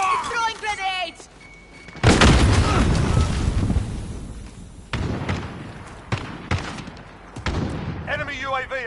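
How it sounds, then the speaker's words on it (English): Grenade blasts and rapid gunfire from a Call of Duty match, with a heavy burst near the start followed by several sharp crackling shots; game voices are heard at the beginning and end. "Throwing grenades!"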